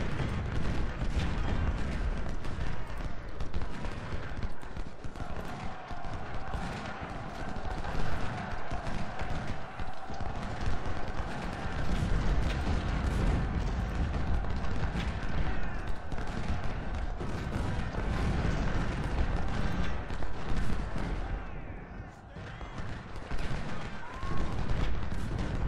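Sustained artillery and musket fire in Ultimate General: Civil War, a Shiloh battle, rolls on continuously as a dense mass of overlapping cannon booms and crackling volleys, loud throughout with no pauses.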